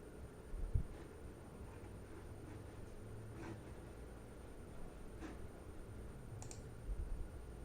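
Sparse, faint mouse clicks while operating a Roll20 tabletop game character sheet, a few isolated ticks spread over a steady low hiss.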